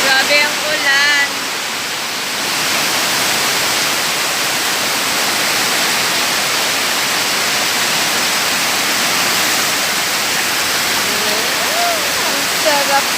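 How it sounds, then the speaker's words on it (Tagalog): Heavy rain pouring steadily in a hissing, roaring wash near a newly built hut during an afternoon downpour, loud and constant, with a few faint croaks at the start and end. "Grabe ang ulan."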